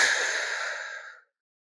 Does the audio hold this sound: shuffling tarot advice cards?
no